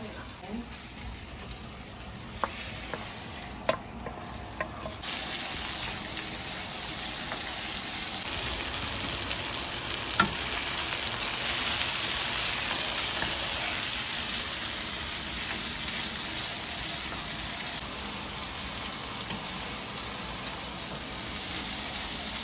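Pre-cooked rice and shrimp fry in a pan for Jamaican-style fried rice, a soft continuous sizzle with occasional clicks and clatters of utensils, fairly quiet and close.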